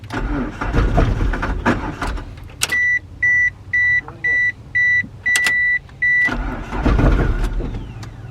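A Mitsubishi Eclipse GSX engine cranks briefly, then about seven evenly spaced electronic beeps sound before the starter grinds again, close and fairly loud.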